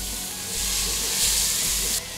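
Chopped onion dropped into a hot pan still holding the seared crust from browned veal shank for ossobuco, giving a loud, steady sizzle that swells midway and then eases slightly, with no talk over it.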